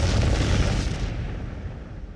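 A single deep, booming explosion rumbles loud and close, then fades out over about two seconds, with no voices.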